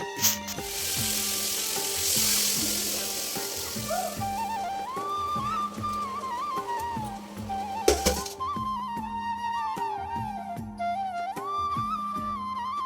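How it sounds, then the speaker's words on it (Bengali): Potato and papaya pieces sizzle and hiss as they fry with spices in a pan, strongest early on, under a steady, rhythmic background music track. "এখন আলু পেঁপেটা মশলা দিয়ে ভালো করে কষিয়ে নেব"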